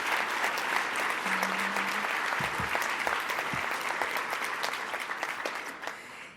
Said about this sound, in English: I'd like you to just give a round of applause to my staff